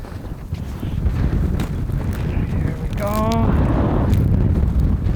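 Strong wind blows outdoors on ice, a steady loud roar buffeting the microphone, with a brief wavering whistle-like tone partway through.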